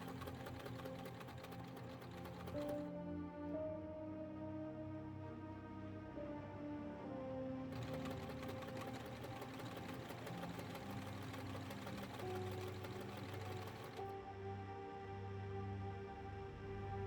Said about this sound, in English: And then all of those structural seams were re-stitched.